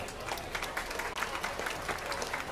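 Steady crowd applause fills an indoor show ring at a youth swine market show, many hands clapping densely and evenly throughout, honoring the exhibitors.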